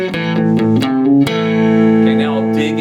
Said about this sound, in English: kind of a bluesy riff.